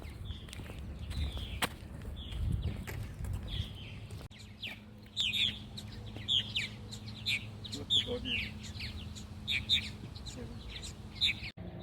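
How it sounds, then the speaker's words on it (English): Birds chirp and tweet around martin houses in Cody Park, Nebraska, bright short calls in scattered bursts at moderate distance, with footsteps and faint background hum. "There's a bird on there."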